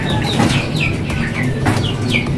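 Six-week-old Rhode Island Red and Jersey Giant heritage chickens give a string of short, high cheeping calls close by, over a busy background of rustling and clucking.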